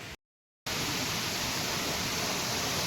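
Water rushes in a loud, steady roar after a cloudburst near Nirmand in Himachal Pradesh, with a half-second break near the start. No voices are heard.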